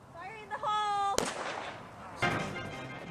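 An explosive charge goes off in a gopher hole with a single sharp, loud blast and then a rumbling decay. A second, softer thud follows about a second later, with a voice heard briefly before the blast.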